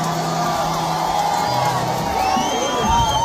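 A crowd at a Nyandarua show cheers and whoops loudly, a continuous wall of voices and shouts with music tones running underneath.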